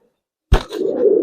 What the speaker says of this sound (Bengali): একবার সুন্দরী জিরা গলা কবুতর দেখেন মাশাআল্লাহ